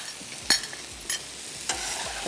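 Spices are stirred in a cooking pan for tawa chicken, with a few distinct scraping strokes over a soft background sizzle, close and fairly quiet.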